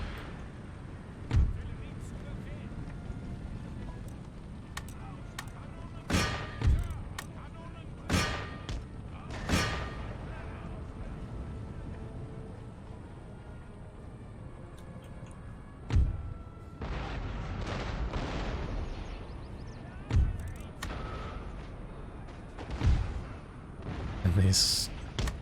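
Cannon artillery fire in Empire: Total War, Prussian campaign battle: scattered deep booms, some sharp and close, others duller and distant, spread irregularly over a steady low battlefield rumble.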